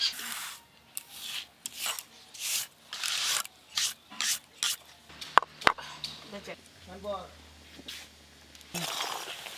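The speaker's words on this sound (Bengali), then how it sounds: "ভাজা মশলাগুলো আধ ভাঙা করে গুঁড়ো করে নিচ্ছি," Fried whole spices being coarsely crushed and ground by hand while making a tangy-spicy whole olive pickle, giving repeated rasping, scraping bursts in an uneven rhythm, close and fairly quiet.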